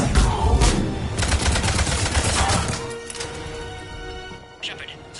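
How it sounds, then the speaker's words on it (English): Rapid gunfire in the shooter Mass Effect, dense loud bursts of shots for the first few seconds, then a quieter hum with a brief final burst, voices talking over it. "Taking fire."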